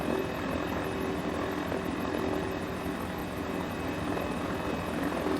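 A Mini 500 helicopter hovers in Microsoft Flight Simulator, a steady dense rotor and engine drone with a constant hum, loud and unchanging throughout with no speech.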